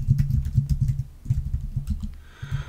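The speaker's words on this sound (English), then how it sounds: "I suppose you're hearing a lot of typing from my keyboard." Rapid clacking keystrokes on a computer keyboard, close to the microphone and continuous, with a dense uneven rhythm and no voices.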